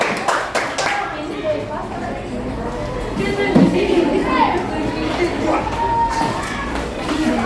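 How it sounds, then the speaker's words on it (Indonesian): Children in a classroom give a brief burst of clapping for a student group, which fades into chatter, shuffling and moving about, with voices talking over the room noise. "Berikan tepuk tangan pada kelompok 5 ya"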